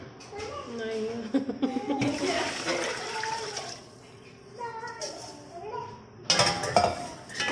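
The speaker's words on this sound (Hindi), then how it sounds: "ये हमने इसमें पानी ऐड कर दिया।" Water is poured from a mug into a pot holding 2 kg of rice for pulao, a splashing fill with metal clinks of the pot, broken by pauses while someone speaks.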